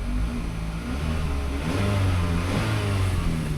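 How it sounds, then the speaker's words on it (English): A Toyota Avalon engine with a check engine light revs up and holds a rising, droning roar close by, with no voices. "Motor sounds okay"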